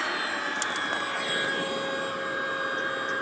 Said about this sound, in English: I'm gonna pull this vacuum out so you can hear the vacuum.